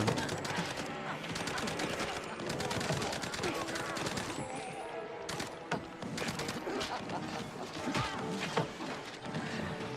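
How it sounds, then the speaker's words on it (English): Gunfire in a shootout from the video game MOUSE: P.I. for Hire: dense, continuous bursts of shots and crashing impacts over a busy music and effects bed, loud throughout. "Never reloaded during a shootout."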